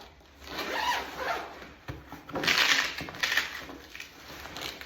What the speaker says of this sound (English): On the back, you actually can unzip this.